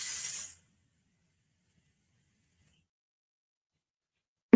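A short burst of pixie spray hisses from a can, a single soft spray lasting about half a second before silence.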